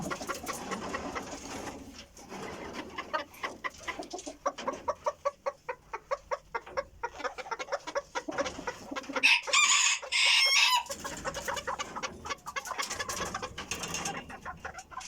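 A broody hen in a backyard coop clucks in a steady series of low, rhythmic clucks, rising into a louder, sharper squawk midway, close to the listener.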